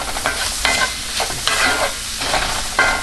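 A spoon stirs seasoning into cooked mushrooms in a hot pan, each stroke a rhythmic scrape and shuffle over a constant sizzle, close and loud.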